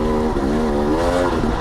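A 2021 KTM 250 XC two-stroke dirt bike engine revs loud and close while climbing uphill in third gear, its pitch wavering up and down with throttle changes throughout.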